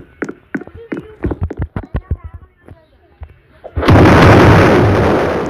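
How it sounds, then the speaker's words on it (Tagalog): A few seconds of excited voices give way to a sudden loud blast that holds as a thick roaring rumble, an explosion in a Roblox game. "Sumabog po."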